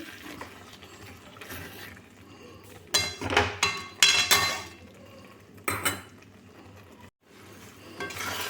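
A pan of tomato chutney is uncovered and stirred, giving soft background clinks followed by several louder close-up clatters and scrapes of the utensil against the pan, then quieter stirring again.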